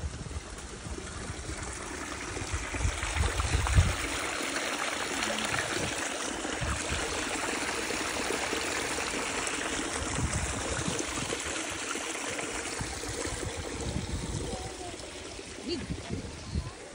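Steady rushing and trickling of water flowing in a stream, close and continuous, with occasional low bumps and voices talking faintly in the background.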